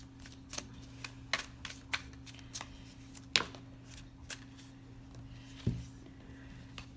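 Tarot cards being shuffled by hand, a run of soft, crisp riffles and taps scattered irregularly through a quiet room, close and fairly faint, with no talking.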